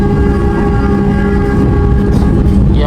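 Steady rumble and rhythmic clatter of a passenger train running on rails between Surabaya and Bojonegoro, heard from inside the carriage in the morning, loud and continuous with a faint tonal hum, no talking.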